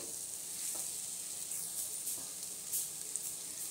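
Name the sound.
stirring and frying spices for sambar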